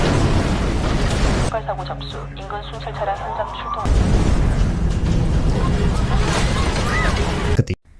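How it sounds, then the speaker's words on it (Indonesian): A loud, roaring car bomb explosion with broadband rumble and crackle follows a brief stretch of talk and tonal sounds, then fades out abruptly. "tiba-tiba mobil yang tadi ia utak-atik meledak"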